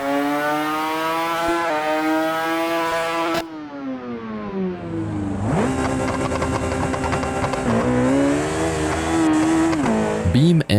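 Drag racing car engine in a moddable racing video game, revving hard through rising gear pulls with a brief drop between shifts, loud and close throughout.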